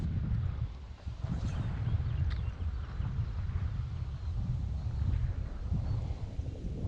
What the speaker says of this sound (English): The wind's making it a little difficult